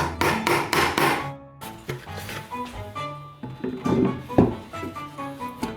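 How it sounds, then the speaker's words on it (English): A hand chisel is struck repeatedly to clean up a messy rounded edge on wood in a 1960s house kitchen, giving close, irregular knocks and taps with short pauses between clusters. "I'm going to clean this up by hand with a chisel"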